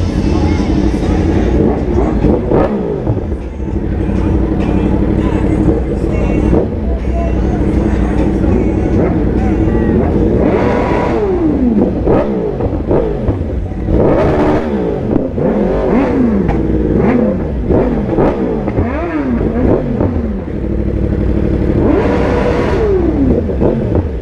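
Superbike motorcycles ride on an open road, engines droning steadily throughout with repeated rising and falling revs from gear changes, loud and close, while someone talks over the engine noise.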